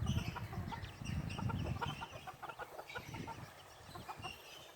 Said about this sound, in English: all the chickies went over to the side because of the roosters fighting